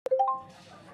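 Phone notification ding in the dating video game Ten Dates: a quick bright chime of a few rising tones, clear and close, decaying within a second.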